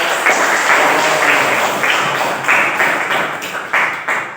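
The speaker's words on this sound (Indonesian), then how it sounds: "Berikan tepuk tangan buat." Applause in a classroom teaching-performance assessment: a group of students claps steadily at close range, with dense overlapping hand claps filling the whole stretch and small swells in intensity.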